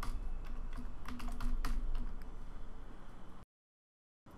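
Rapid clicking of a computer keyboard as a project name is typed, a dense run of keystrokes lasting about three seconds before cutting to silence.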